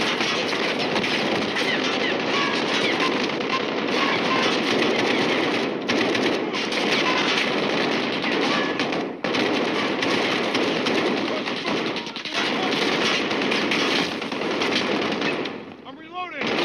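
Sustained rapid gunfire from a Call of Duty: Modern Warfare match, dense automatic bursts and explosions filling nearly all of it at high volume, with voices mixed in underneath before a brief drop near the end.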